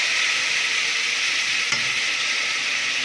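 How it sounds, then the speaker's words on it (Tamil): Tomatoes sauté in a hot pan for nonbu kanji, a loud, continuous close sizzle and hiss with a brief clink of a stirring spoon. "ஒரு 2 நிமிஷம் நல்லா தக்காளி வந்து வதங்கிட்டுங்க."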